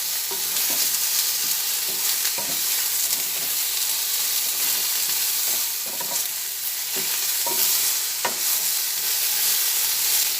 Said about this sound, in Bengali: নুন দেওয়ার পরে আবার ভালোভাবে বেগুনগুলোকে ভেজে নিচ্ছি